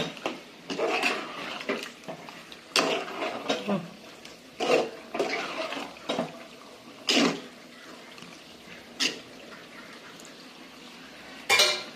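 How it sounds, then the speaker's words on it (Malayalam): Chicken curry being stirred in a pot: scraping ladle strokes and metallic clinks come in irregular bursts, moderately close, with quiet gaps between them and no talking. "ഇപ്പുറത്ത് നമുക്ക് വെറുതെ ഒന്ന് ഇളക്കി നോക്കാം."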